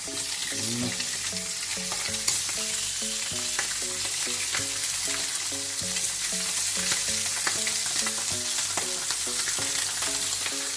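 Mackerel frying in hot oil in a home kitchen, a steady broadband sizzle running throughout with repeated rhythmic tonal tapping overlaid, moderately loud and close, no talking.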